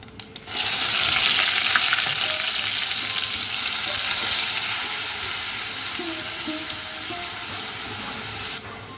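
Onion paste hitting hot oil with cumin and whole garam masala for a Bengali palak chicken: a loud, steady, close sizzle that starts abruptly and holds continuously, with faint stirring underneath.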